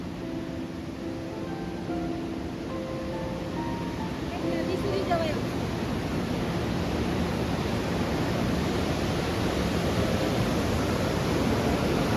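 A white-water river in Pokhara, Nepal rushes in a dense, steady roar close by. It fills the whole clip at an even level, and a voice speaks softly over it early on.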